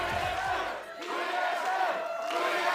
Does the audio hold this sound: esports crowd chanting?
yes